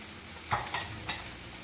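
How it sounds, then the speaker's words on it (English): Garlic, spring onion and carrot stirred in a hot frying pan, a steady sizzle under three quick scraping strokes of the utensil. "And give it a nice stir."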